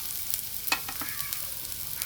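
Onion goes into a hot frying pan and gets stirred with a spoon, giving a few sharp scrapes and clicks over a soft, continuous sizzle, close by with no talking.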